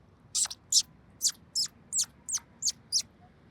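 A voice imitates sparrows with eight short, high chirps in a quick, even series against a quiet background.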